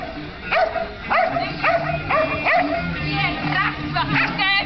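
A Swedish Lapphund barks repeatedly in short sharp bursts, close by, with other yips and outdoor noise around it at a jumping agility event.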